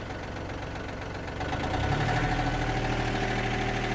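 A Yanmar AF-26 mini tractor drives a rotary tiller, its diesel engine running smoothly and then rising to a higher, steady hum as the revs are raised, with no talk over it.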